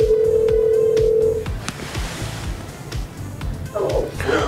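Phone dialing tones from a Bluetooth call placed through a Cobra 29 LX Max smart CB radio, a sustained tone followed by a quick series of short beeps, then a brief synthesized voice response near the end.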